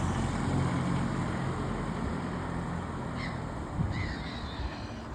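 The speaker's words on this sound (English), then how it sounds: "The birds are going daft there." Crows cawing along a seafront near Carrickfergus castle, a few brief calls rising over a steady roar of wind or traffic rumble that dominates throughout.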